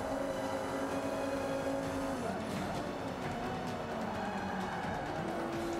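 Car engine in Forza 5 on an off-road stretch, a steady loud drone rising in pitch as the throttle is floored, with tire and road noise underneath.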